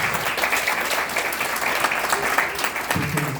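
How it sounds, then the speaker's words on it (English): Audience at a congressional candidate forum in an American Legion hall applauds for Rosie, with steady, full clapping from a modest crowd that carries on without pause. "So a round of applause for Rosie."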